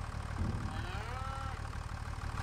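A cow lets out a single drawn-out moo in Farming Simulator 25, rising then falling over a low idling engine hum on a farm.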